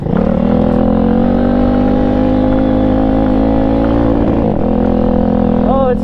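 Cheap Chinese Apollo/Tao Tao dirt bike engine running on a slippery trail ride, a loud close droning motor held at steady revs with a brief dip and rise near the end, with some voice underneath.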